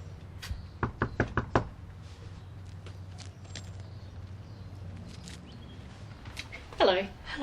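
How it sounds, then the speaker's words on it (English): Knuckles rap on a door in a quick series of about six close, sharp knocks, followed by quiet room tone and a brief voice near the end. "So, who's going to knock? I guess I will."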